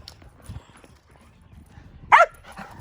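Lily, a homestead dog sent out to chase birds in the morning, lets out one loud sharp bark near the end over quiet outdoor background rumble and faint scuffling.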